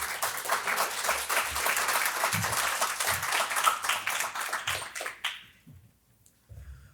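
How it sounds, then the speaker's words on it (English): Audience applause for Matt Simpson at a Champaign-Urbana business gathering, a dense steady clapping that runs several seconds, then thins out and stops, leaving a few scattered claps near the end. "So let's give him a round of applause."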